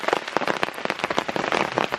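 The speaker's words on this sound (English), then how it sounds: "It's been raining since sort of 1:30 in the morning, and it's raining now." Steady rain patters on a tarp over a tent campsite at Lake Louisa, with dense, close drops and irregular sharper hits throughout, no voices.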